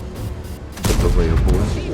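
A sudden booming artillery shot from a game erupts partway through, following quieter background sound, with a rumbling tail.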